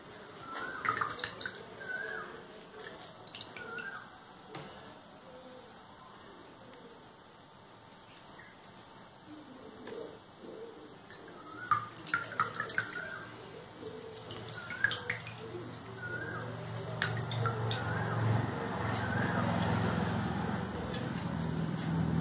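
Halved, deseeded lemons squeezed by hand for a village-style coconut lemon juice give wet squelching with dripping and trickling juice, building steadily and growing louder toward the end.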